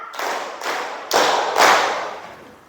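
A classroom of students performs a four-beat clap pattern, four loud, sharp group claps in steady rhythm with no talk over them.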